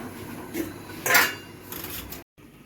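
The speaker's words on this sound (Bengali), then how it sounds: "আমি একটু ঢাকনা দিয়ে ঢেকে দিব।" A lid goes onto a cooking pot with one brief metallic clatter midway, set against a quiet kitchen background.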